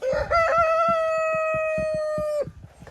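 A rooster crows close by, one long sustained harmonic call held for about two seconds, with clucking and scratchy bird sounds underneath.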